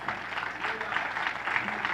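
A church congregation applauding steadily throughout, a dense wash of clapping at moderate level with no voices standing out.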